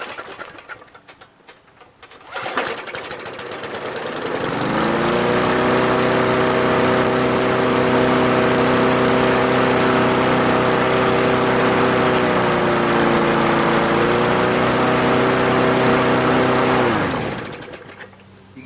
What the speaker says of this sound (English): There's nothing wrong with this lawnmower. But as you also saw, it's revving really too high.